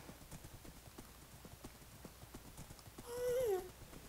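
Horses in the video game Minecraft: a steady run of hoof clip-clops, then a short whinny near the end, moderately close.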